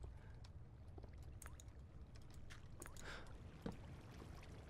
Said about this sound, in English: Okay, so there's like these water noises.